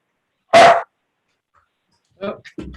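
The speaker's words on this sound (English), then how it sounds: "Apologize for the dog in the background." A dog gives one loud, sharp bark nearby, then after a pause lets out a couple of shorter, quieter barks.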